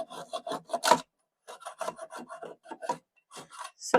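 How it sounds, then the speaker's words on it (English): A knife's thin spine is worked like a hand saw across wood on a desk being upcycled, giving close, rapid rasping strokes in two bursts separated by a brief pause. "I'm going to use the thinner side of it. It's like a hand saw"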